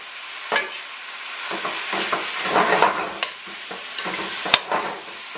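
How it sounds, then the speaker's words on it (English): Cumin-seasoned Geera pork searing in a pot over high heat, with a steady sizzle broken by several scraping stirs of a spoon against the pot, close and clear. "Keep your heat on high because we want to sort of sear this and lock in all the flavors in this Geera pork."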